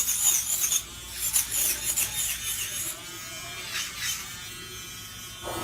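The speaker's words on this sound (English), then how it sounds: "this drill is so loud" Electric nail drill buffing long acrylic nails during an ombre manicure, a loud steady high-pitched whir with brief pulses as the bit touches the nail, close up with no talk.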